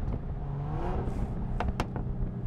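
Mercedes-AMG GLE 53 engine revving through an upshift, a rising drone that breaks into a sharp crackle and pop or two near the end, heard from a moderate distance.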